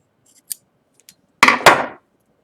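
A leather lace is cut to a taper with scissors or a blade, two small ticks followed by two close, loud scraping cuts in quick succession.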